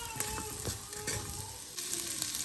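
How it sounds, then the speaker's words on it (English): Seasoned pork stirred in a hot pan, a steady close sizzle with scraping stir strokes throughout, no voices. "I'm just going to mix it all together."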